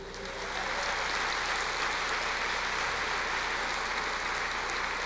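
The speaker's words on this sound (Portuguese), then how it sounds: "aplauda ao Senhor." Congregation applause at a Portuguese-language Easter church service; a broad, sustained wash of many hands clapping, rising quickly and holding steady and fairly loud throughout.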